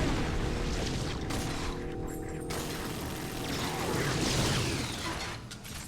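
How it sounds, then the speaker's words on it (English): A dense, rumbling explosion with crashing debris in GoldenEye: Rogue Agent on Xbox, sustained and loud with mechanical clatter layered through it. "Of course, the fucking explosion didn't kill him."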